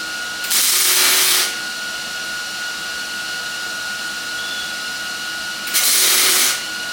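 Tack welds join hinges on a steel BBQ pit, with two separate harsh, hissing bursts about a second each, several seconds apart, over a quiet shop hum.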